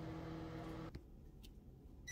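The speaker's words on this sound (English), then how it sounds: "it is done microwaving for the 2 minutes" A microwave oven heating caramel popcorn mixture hums steadily, then cuts off abruptly, leaving near quiet with a couple of faint high blips afterward.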